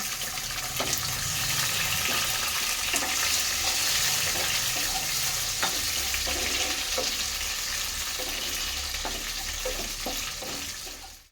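Shrimp frying in a pan with tempered spices produce a continuous close sizzle, with scattered clicks and scrapes of stirring throughout, steady until an abrupt stop, with no talk.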